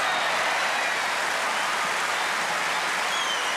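Steady applause from a tennis crowd at the 1987 Australian Open final, a dense, even roar of clapping that fills the whole stretch without a break.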